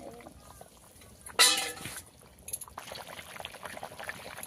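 Water pours briefly into a simmering fish curry with cauliflower, potato and bori, a close splashing gush followed by soft bubbling and sizzling.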